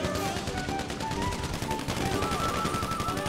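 Quiet, steady bursts of gunfire in a GTA 5 online session, sounding distant and muffled and running continuously under a busy wash of game noise.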